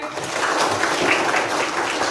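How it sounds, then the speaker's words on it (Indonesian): Children in a sixth-grade classroom lesson clap together in a busy, continuous patter, a fairly loud wash of small hands that holds steady for about two seconds. "Tepuk tangan sekali lagi."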